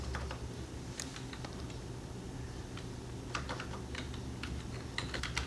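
Rapid, uneven keystrokes on a computer keyboard while C++ code is written, with steady close clicking running throughout and a low background hum, no voice.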